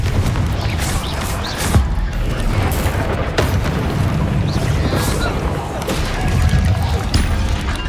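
Repeated spell blasts and magical impacts from the Hogwarts Legacy video game, including Confringo, booming and crashing in a dense, continuous battle mix over a low rumbling bed, with sharp bursts every second or so.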